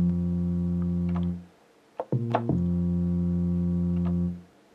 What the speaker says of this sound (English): Bass is gonna sound something like this.